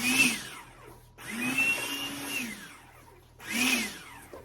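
A food processor whirs in three short pulses, its motor revving up and winding down each time, fairly quiet and close.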